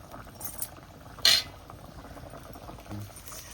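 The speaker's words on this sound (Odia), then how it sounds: "ମାଛ ଫୁଟୁଛି।" Home-style fish curry simmering in a pot, a soft continuous bubbling hiss under a brief metallic clink and a faint low thump, close by with no talk.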